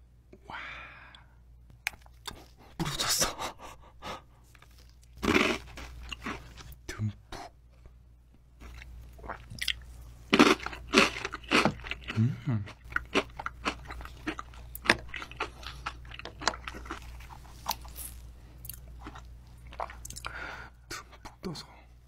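Crunchy Nutella biscuits are eaten close up in an ASMR mukbang, with scattered sharp bites, crunches and chewing spread across the recording, some scraping, and soft speech in between.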